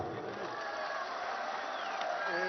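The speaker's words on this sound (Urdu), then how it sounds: "ایک بار سب مل کے پوری کے پی کی ہماری ٹیم کے لیے، تمام M P as, M N as اور کیبنٹ سب کے لیے پرزور تالیاں جی۔" Large outdoor PTI political rally crowd in Mansehra, a continuous broad wash of cheering and applause with scattered shouts, steady and loud throughout.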